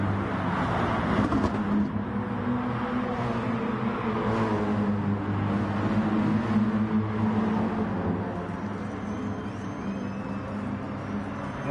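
Engines of GT3 race cars lapping Kyoto Driving Park in a sim racing game, a sustained loud drone at high revs with slight pitch shifts, easing a little toward the end.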